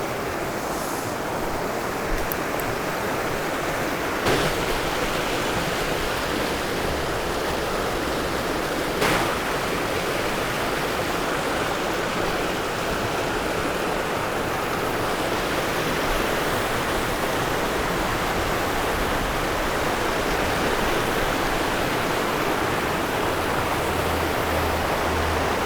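A fast-flowing mountain stream in Kagoshima rushes steadily near a small waterfall, a dense, continuous roar of water that stays loud and even throughout, with no voices.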